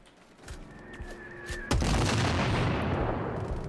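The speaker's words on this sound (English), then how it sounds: "So they've got mortars on us." Mortar fire in the Sniper Ghost Warrior Contracts video game: a sudden heavy blast partway through, followed by a sustained rumbling roar, with smaller thuds and a faint tonal whine beforehand.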